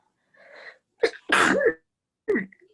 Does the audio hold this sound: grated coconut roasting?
no